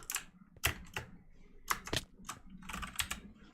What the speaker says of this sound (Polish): Czemu on mi tą maszynę do pisania włącza cały czas?